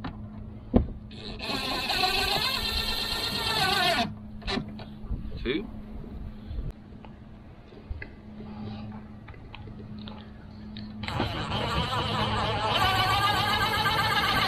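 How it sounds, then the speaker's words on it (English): Screws being driven through a fifth wheel roof into plywood under OSB with a power driver, two loud whirring bursts separated by a quieter stretch of handling noise, with a person talking. "now we're just gonna use these screws that came with it to screw it down"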